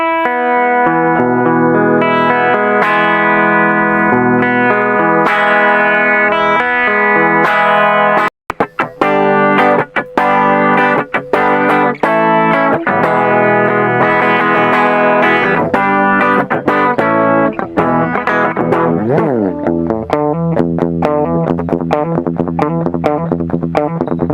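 Electric guitar through a Free The Tone Silky Groove compressor pedal, notes sustaining evenly at a steady level, brisk picked runs and chords continuing throughout with no talking.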